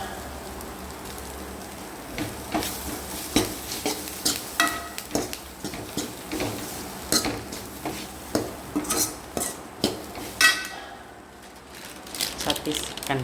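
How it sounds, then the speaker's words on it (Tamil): Ginger and garlic being sautéed in a pan, with a soft steady sizzle and a series of scraping, clinking stirs against the pan while a person talks nearby. "இஞ்சி பூண்டு இதுக்குள்ளேயே போட்டு வணக்கிடுறேன்"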